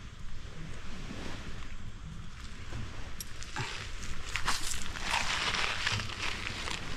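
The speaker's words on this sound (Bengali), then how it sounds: "কিন্তু একটা ডুঙ্গির আওয়াজ।" A small dinghy's engine passes outside on open water in the Andaman islands, a steady, moderately distant drone blended into gusting wind and lapping waves that swell louder toward the end.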